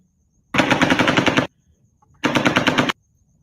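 Two loud bursts of rapid machine-gun fire during the Las Vegas shooting, the first about a second long and the second shorter, separated by silence.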